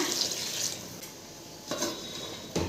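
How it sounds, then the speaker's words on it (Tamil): Water is poured into a pot of chicken biryani in a home kitchen, giving a steady, soft splashing stream with a couple of brief clinks or knocks near the end. "நான் அளவு தண்ணி ஊற்றிக்கிறேன்"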